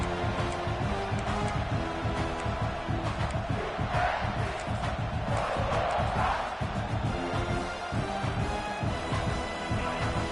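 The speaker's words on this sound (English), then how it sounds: "listen to this crowd noise. This stadium is vibrating." A huge American football stadium crowd roars continuously, loud and sustained throughout with shouting and cheering swelling in waves.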